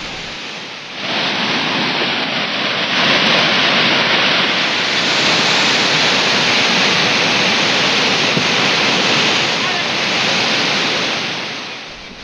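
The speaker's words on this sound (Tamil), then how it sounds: "ஜுலகம்பாறை அருவியில் செந்நிறத்தில் தண்ணீர் ஆர்ப்பரித்து கொட்டுகிறது" A rain-swollen waterfall in flood, its red, muddy water thundering down in a dense, continuous roar that fades in over the first second, then stays loud and unbroken before easing slightly at the end.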